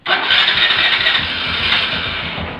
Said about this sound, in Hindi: चलो भाई साहब हो गए स्टार्ट